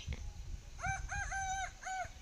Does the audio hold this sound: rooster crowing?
yes